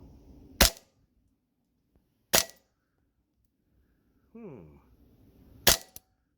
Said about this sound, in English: let's put her across the chronograph and let's see what she's shooting